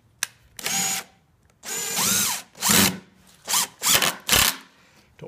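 Power drill driving 2.5 inch decking screws into wood for a cold frame, several close, loud whirring bursts with rising and falling pitch, separated by short pauses.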